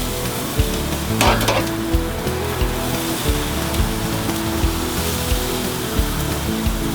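Boneless chicken thighs sizzle on the new Gambler grill, a steady crackling hiss with scattered pops and a brief scraping burst near the start, with no speech.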